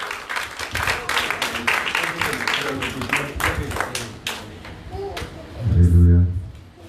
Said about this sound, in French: Applaudir, applaudir bien fort pour la gloire de Dieu.